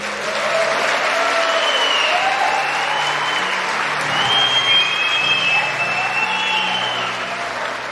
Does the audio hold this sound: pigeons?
no